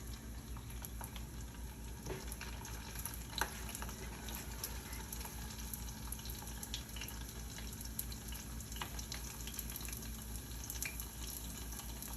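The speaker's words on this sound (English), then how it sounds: "You will start to hear it start to sizzle a little bit." Steady low sizzle of garlic frying in a pot, a continuous crackle with occasional small pops and a light stir, no voices.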